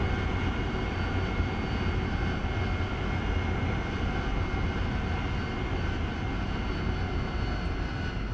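Jet aircraft in the DCS World flight simulator, a multiple-ship night strike mission: a constant droning engine roar with steady tonal whine layered over broadband rumble, unbroken and moderately loud throughout.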